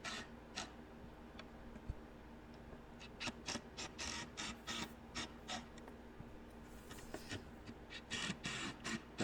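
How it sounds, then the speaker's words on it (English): Screws driven through a cabinet toe kick during built-in closet construction, heard as a run of short, sharp mechanical ticks and whirring bursts in uneven clusters, fairly close, with no talking. "Just screw it in place"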